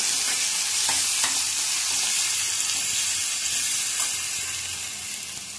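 Coconut-onion paste hits a hot pan and sizzles steadily and loudly throughout, with faint spoon scrapes as it is stirred, no talking.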